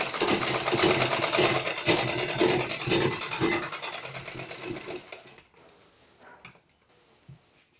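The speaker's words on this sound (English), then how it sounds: "I'm going to stop the sewing by 6 inches." A sewing machine stitches a polo shirt placket in a loud, steady run for about five seconds, then stops, leaving faint handling clicks and rustles.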